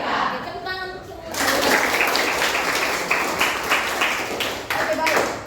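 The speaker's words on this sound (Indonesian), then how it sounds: "tepuk tangan untuk semua" Class of students in a physics lesson breaking into applause, starting after a short voiced chant and swelling into a busy patter of many hands clapping nearby, with a few voices mixed in.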